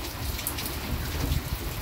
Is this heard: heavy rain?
yes